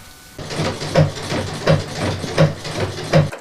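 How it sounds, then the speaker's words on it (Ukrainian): An electric sewing machine converted to foot-powered mechanical operation runs steadily, with a rhythmic clacking thump repeating about every 0.7 seconds, close and alone. "З електричної швейної машинки пані Марія зробила механічну"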